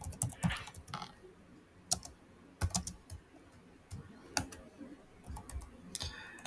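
Rapid typing on a computer keyboard, crisp close keystrokes in uneven bursts with brief pauses, no voice over them.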